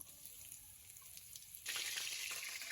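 Whole cinnamon, cardamom, cumin and bay leaves fry in hot oil for eel-fish biryani, giving a steady close sizzle that swells sharply louder partway through and stays bright and crackling.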